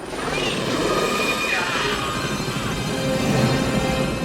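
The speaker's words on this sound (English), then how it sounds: "you can tell that this is an RC chopper" A small radio-controlled helicopter whines steadily with a buzzing rotor, staying fairly close throughout the short stretch.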